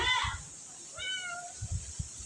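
A house cat meows twice, close by in a quiet kitchen, with soft handling noises and light clatter between the calls.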